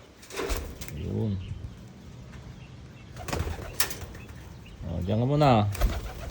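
Pigeons on a free flight give soft cooing calls and brief bursts of wing flapping nearby. Someone talks over them.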